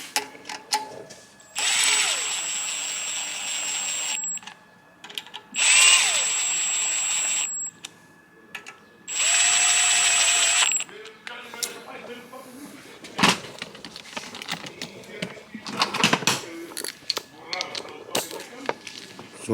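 A power tool driving 10 mm bolts on a Honda K24 oil pump being converted to K20 spec whirs in three close, steady bursts of a couple of seconds each, with pauses between and people talking afterward.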